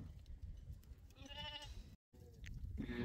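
Sheep bleating on an English sheep farm during a sale, several overlapping calls over a steady low rumble of livestock, fairly close, with one brief dropout midway.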